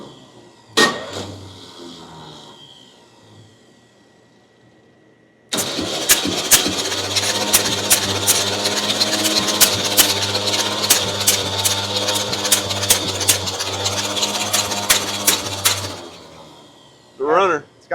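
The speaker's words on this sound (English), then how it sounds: "We finally got it to a point where the engine will crank with the top on the transmission." A fire-damaged 1969 Chevy engine that has been sitting for 40 years cranks over with a loud, steady chugging starter rhythm for about ten seconds, then stops. Voices talk before and after the cranking.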